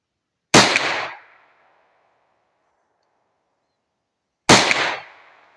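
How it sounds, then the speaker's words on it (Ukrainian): Two sharp, loud rifle gunshots about four seconds apart, each followed by a short fading echo, with silence between them. "Робимо три постріла, проверяем потом."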